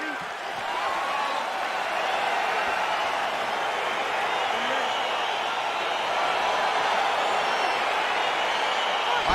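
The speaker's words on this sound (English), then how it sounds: "crowd getting excited as this fight gets underway" An arena crowd at a UFC fight roars steadily and loudly as the bout begins, a continuous, dense wash of noise with no clear breaks.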